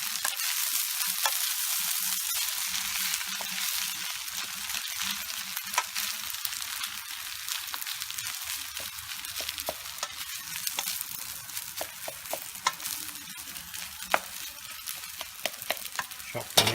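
Food sizzles steadily in a frying pan with egg while it is stirred before pork goes in; a continuous broadband hiss runs throughout, punctuated by scattered scraping and tapping of the utensil, with no talking.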